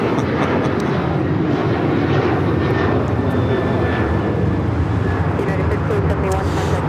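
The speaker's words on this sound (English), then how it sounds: "This is United Airlines 1571 taking off to Houston Intercontinental on the 737-900ER." United Airlines Boeing 737-900ER taking off at LAX, a continuous loud jet engine roar with a faint whine, steady across the whole stretch with distant road traffic underneath.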